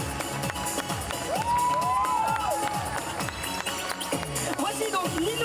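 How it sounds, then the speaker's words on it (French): Festival crowd at a Harajuku fashion parade clapping and cheering, busy and loud, with shouts, whistles and voices mixed through steady applause and an announcer's voice over it. "Allez, on les applaudit très fort."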